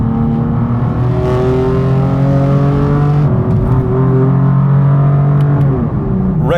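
A 2016 BMW M4 GTS accelerates hard at full throttle, its engine note climbing loud and close through the gears with a brief dip at a shift before rising again.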